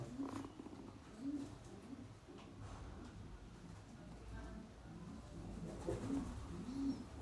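Pigeons coo softly nearby, repeating low, throaty calls in bursts several times against a quiet background.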